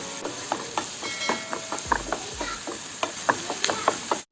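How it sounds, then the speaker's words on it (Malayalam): Sliced onion with salt sautés in a pan for a fish egg fry, giving a continuous close sizzle broken by repeated clicking scrapes of a spoon stirring against the pan. "ഇനി ഈ സവോള നന്നായിട്ടൊന്ന് വഴറ്റിയെടുക്കാം."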